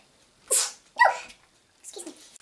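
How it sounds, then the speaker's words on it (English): A woman sneezes once, a sharp close burst followed by a second explosive release and a softer trailing exhale, with no talk over it. "So I'm going to sneeze."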